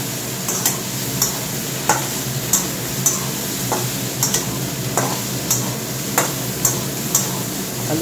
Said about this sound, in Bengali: আলু ফুলকপিটা ভাজা হোক